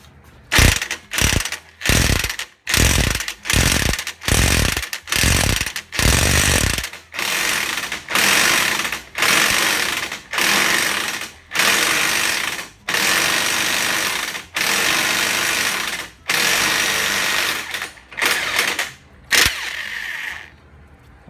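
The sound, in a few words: impact wrench removing Nissan Altima wheel bearing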